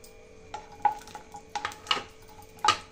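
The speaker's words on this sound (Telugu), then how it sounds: "డ్రై ఫ్రూట్స్ని రోస్ట్ చేసుకుందామండి" Cashews stir in a pan of ghee, with a soft sizzle under scattered metallic scrapes and clinks of a spoon against the pan, several sharp taps spaced irregularly over a few seconds.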